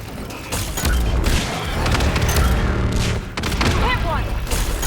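Dense gunfire in a Mass Effect 3 battle on Thessia, with loud, continuous shots and booms layered under frequent speech.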